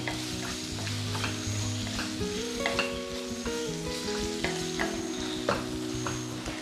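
Onion and tomato sauté in a pan for brinjal curry with a steady sizzle, punctuated by repeated scraping and stirring clicks from a spoon against the pan, continuous and close with no talking.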